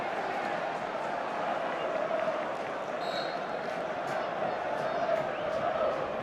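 Crowd of about 40,000 at Villa Park during Aston Villa versus Blackburn Rovers, a Carling Cup semi-final football match, with a steady roar of fans and scattered shouts beneath a commentator talking.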